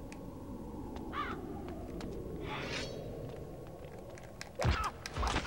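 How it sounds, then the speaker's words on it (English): A crow caws a couple of times in a quiet outdoor graveyard scene in the video game Blood Omen 2, over a low rumbling ambience, followed by a few dull thumps near the end. "Go away, bird."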